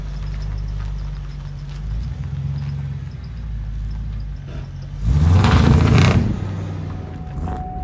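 An old car engine idles with a low, steady rumble, then revs up loudly for about a second before settling back to idle.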